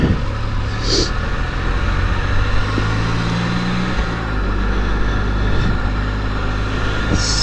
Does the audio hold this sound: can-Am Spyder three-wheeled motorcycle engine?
yes